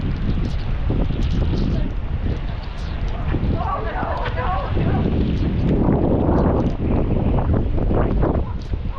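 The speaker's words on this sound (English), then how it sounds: "It is really windy too." Strong wind buffets the microphone on a cruise ship deck leaving Key West, a constant roaring rush with gusting bursts, while people talk nearby.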